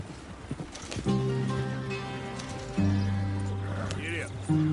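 A horse gallops in the video game Red Dead Redemption 2, its hoofbeats running steadily beneath loud sustained musical tones and game sound.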